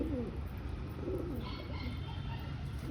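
Domestic pigeons kept at home, mostly Madras birds, give soft repeated low coos over a constant background hum, faint and spaced out.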